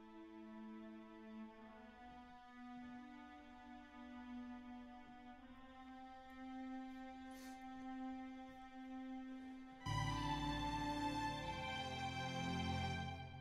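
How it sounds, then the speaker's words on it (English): A divisi viola sample patch plays sustained, layered string chords that shift harmony every few seconds, then swell into a fuller, louder chord near the end, with no talking. "Also got two violas here, so I've got a Divisi patch, and it sounds like this"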